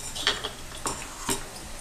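A spoon clinks and scrapes against a pan while spice powder is stirred into a bitter gourd fry. There are a few soft, scattered metallic taps, with no talking.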